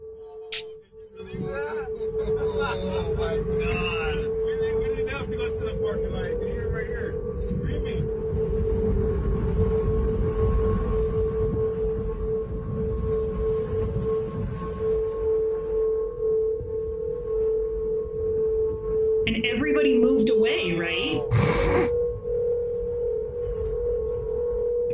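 The Golden Gate Bridge hums in the wind as a steady eerie tonal drone, heard playing back in a recording with people talking over much of it.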